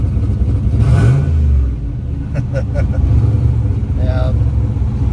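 A car engine revs hard in wet conditions, a loud close rumbling surge that swells and fades, with people talking over it.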